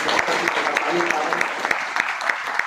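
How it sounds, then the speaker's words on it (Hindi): Audience clapping at a business seminar in Faridabad, a steady patter of many hands with sharp individual claps throughout, with a voice faintly mixed in. "आदरणीय हम ताली चाहते हैं आदरणीय डी कुमार सर"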